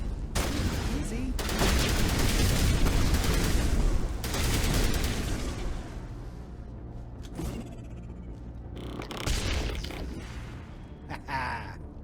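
Grenade blasts in the Mass Effect 1 video game, heavy booming explosions that roll into one another over several seconds, then quieter sporadic gunfire and clanks.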